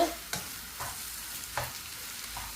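Egg being stirred into puttu kothu with dried anchovy in a pan: about four soft, scraping spatula strokes over a faint, quiet sizzle.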